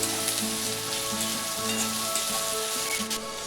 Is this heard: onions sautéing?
yes